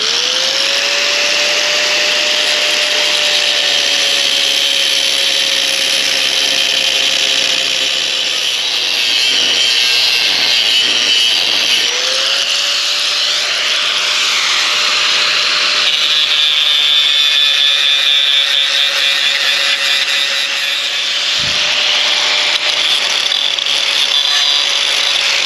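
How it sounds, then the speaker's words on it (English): An angle grinder cuts a V groove along a crack in a cast iron Jeep exhaust manifold, giving a loud, steady, close-up grinding whine that runs unbroken for the whole stretch with no talking. "we're gonna take a grinder, we're gonna dig a V groove along the whole line of that crack"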